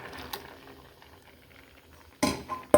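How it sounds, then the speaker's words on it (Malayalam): Ground spice paste going into a green peas and potato curry, a soft background simmer broken by a few sharp metallic scrapes and clinks of a spoon against the pot near the end. "ഇനി ഈ അരപ്പ് ഇട്ട് കൊടുത്ത് ഇതിനെ ഒന്ന് ഇളക്കി കൊടുക്കാം."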